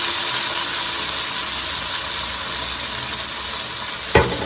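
Unseasoned pork slices grilling for Korean-style grilled pork: a steady, even sizzle runs throughout, with one sharp click near the end.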